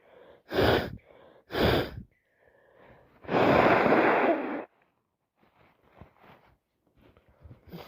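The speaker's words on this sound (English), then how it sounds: "I can't contain my sneezes, can I? They just fly everywhere." A person sneezes repeatedly: two sharp bursts close together, then a longer, heavier sneeze, followed by quiet sniffling and breathing as another builds up.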